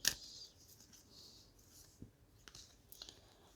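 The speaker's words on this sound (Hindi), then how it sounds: "बहुत ज़्यादा कार्ड्स गिर गए, मैं वापस शफल करूँगी।" Tarot cards are shuffled by hand, with a sharp riffle at the start followed by soft, scattered flicks and taps of the deck, quiet and close with no voices.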